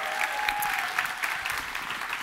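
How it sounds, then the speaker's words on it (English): An audience at the A MAZE. / Berlin 2023 award show applauds the judges with a short, dense burst of clapping that fills the room evenly throughout. "Round of applause for the judges"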